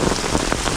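Heavy rain pours down on a river outing, a dense, loud, steady hiss of drops striking surfaces with no break.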